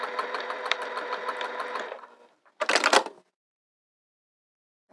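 A sewing machine stitching a zigzag seam on a skirt runs in a steady rapid chatter for about two seconds, falls quiet, then gives a short, loud second burst before stopping.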